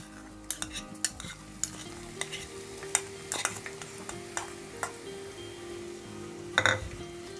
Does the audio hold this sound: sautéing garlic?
yes